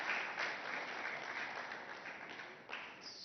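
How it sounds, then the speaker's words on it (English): Steady audience clapping at a summit, a soft, even wash of applause heard at a distance with a slight swell near the end. "Claps can be louder."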